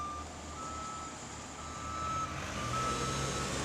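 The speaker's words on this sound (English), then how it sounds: "here comes the heavy road roller. Back and forth it goes, squashing the asphalt down" A heavy road roller compacts asphalt, rolling back and forth under a low, steady diesel rumble while its reversing alarm beeps in an even, repeated tone, heard from a moderate distance.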